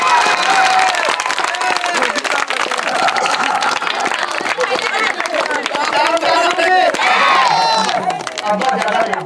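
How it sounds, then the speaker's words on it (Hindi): A lively crowd claps and cheers at a gathering, with continuous babble, shouts and voices mixed into the dense applause throughout. "तालियां"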